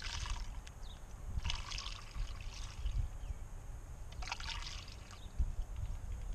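Sugar water pours into a bee feeder in a garden, giving a soft, intermittent trickling and splashing over a steady low outdoor rumble, faint and fairly close.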